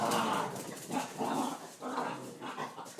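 Several dogs bark and yelp in repeated bursts outdoors, fairly loud and steady, with a couple of short pauses between volleys.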